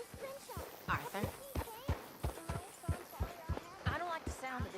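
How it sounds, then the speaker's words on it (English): A horse in Red Dead Redemption 2 walks along with a steady clip-clop of hooves, each step a sharp, evenly spaced knock, heard up close beneath voices talking. "Arthur, get that horse out of here."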